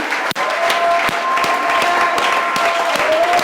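Church congregation applauding and cheering in praise of Jesus during a French-language worship service, dense steady clapping sustained throughout, loud and close, with a sustained held tone ringing over the crowd.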